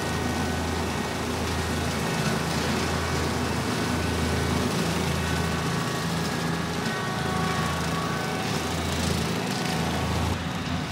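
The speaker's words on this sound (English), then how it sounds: "I'm a little nervous with him driving that big 10-foot mower on Johnny 5." A tractor pulls a 10-foot flexwing mower through tall, heavy grass and brush, producing a steady, loud engine drone and cutting roar that continues without a break.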